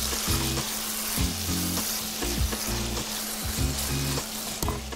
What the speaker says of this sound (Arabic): سيبها تتشوح كمان حبة كمان.